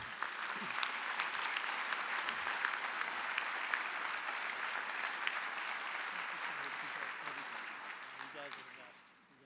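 An audience at a joint opening session breaks into sustained applause, dense clapping that holds steady and then tapers off near the end, with some talk underneath.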